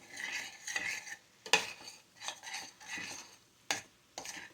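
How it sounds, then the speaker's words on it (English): All-purpose flour stirred into a cooking pot for a sauerbraten gravy, with a spoon scraping and clinking against the metal in several short bursts and one sharp knock, close and alone. "Now I'm adding 4 tablespoons of flour. And this is all-purpose flour. And I'm going to mix that in."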